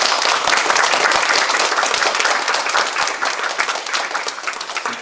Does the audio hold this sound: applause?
yes